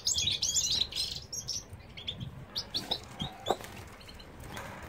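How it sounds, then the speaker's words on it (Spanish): Several small songbirds, goldfinches, chirp and twitter at once, bright high notes in bursts over a low background hum, with louder calls near the start. "Mira cómo canta aquella jilguera"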